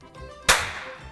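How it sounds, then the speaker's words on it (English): One loud, sharp hand clap rings out close by in an otherwise quiet space, a single crisp crack with a short fading tail. "That was like some pretty damn good clapping."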